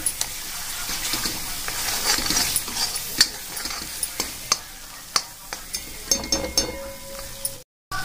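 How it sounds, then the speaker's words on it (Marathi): Masala for butter matar paneer fries in oil over a low flame, a steady close sizzle broken by scattered stirring scrapes and clicks, then a brief drop to silence near the end. "बघू शकता इथं आपला छान प्रकारे मसाला फ्राय होतोय।"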